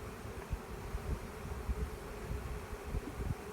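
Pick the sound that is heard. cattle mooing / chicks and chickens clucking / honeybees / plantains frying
honeybees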